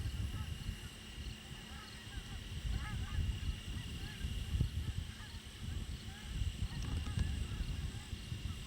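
Geese honk far off at Swan Lake, many faint scattered calls over rumbling wind and low background noise.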